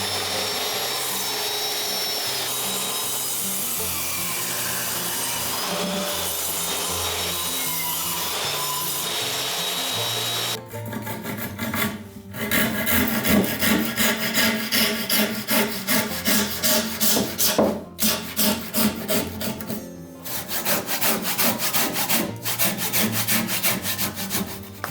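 A carpenter's power tool cuts into a wooden house post during hand-cut framing work: a steady, loud motor whine at first, then rough, pulsing grinding and rasping as the blade bites repeatedly through the wood.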